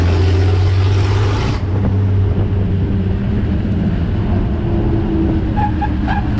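A Furlan Type 51, a Brazilian-built Bugatti replica, drives along a rough street with a steady, loud engine drone and low rumble that continues throughout.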